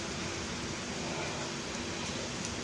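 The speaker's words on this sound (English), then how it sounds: "I'm sorry for the noise, but we are actually having a cloud burst." Heavy rain pours down during a cloudburst in South Africa, a dense, steady hiss of falling water with no breaks, heard faintly at a low overall level.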